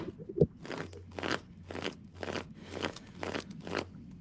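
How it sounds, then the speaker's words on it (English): Tarot cards are shuffled in a quick rhythmic series of about six crisp riffling bursts, close and alone, with no talk over them. "sometimes I just like shuffle, shuffle, and can't stop shuffling"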